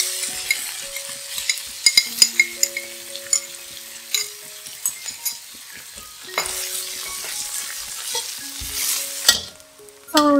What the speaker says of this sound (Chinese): 放入香菇、米浆一起爆香。